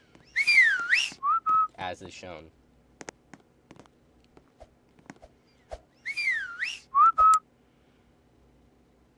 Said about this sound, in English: the hider will immediately whistle in response to it automatically